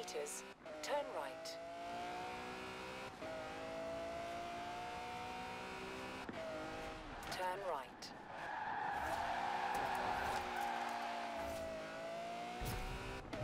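A car in Forza Horizon 4 drifts and burns rubber, its engine revving in rising and falling sweeps before a sustained loud tire squeal takes over in the second half, with a voice talking over it.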